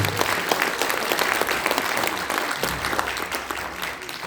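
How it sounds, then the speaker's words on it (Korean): A crowd at a Korean political party launch event applauds with dense, sustained clapping throughout. "다시 한번 큰 박수 부탁드리겠습니다"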